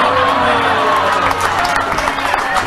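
A crowd applauds and cheers in a dense, continuous wash of noise, with a voice speaking over it.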